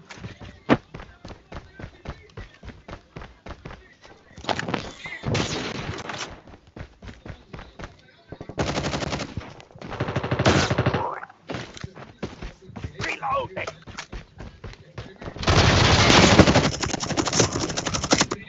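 Rapid bursts of automatic gunfire in a video game, some long sustained volleys and scattered single shots, loud and close, with players talking in between.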